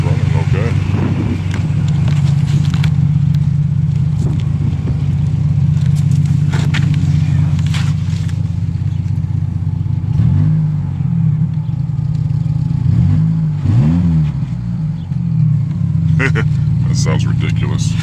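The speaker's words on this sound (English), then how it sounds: "Other than the exhaust, it sounds like she's running okay." A Chrysler PT Cruiser engine idles with a steady low rumble, then revs up a couple of times with rising and falling pitch, close by and loud, with a faulty exhaust.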